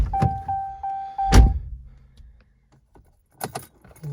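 Keys jangle in the ignition of a 4th-gen Ram truck as the key is turned off: a close metallic jingle, then a solid thunk and a few faint clicks.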